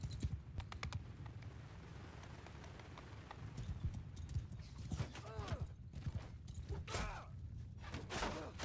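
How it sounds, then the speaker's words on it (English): Horse archers' hooves clatter in a rapid clip-clop as they approach in the video game Bannerlord, fairly faint amid sharp game sounds. "Oh, here come their horse archers."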